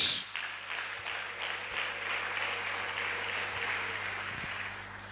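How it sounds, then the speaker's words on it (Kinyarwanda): A church congregation claps together in a dense, sustained wash of applause with faint rhythmic pulses, heard at a moderate distance with no one speaking. "Reka tuyikomera amashyi kandi menshi."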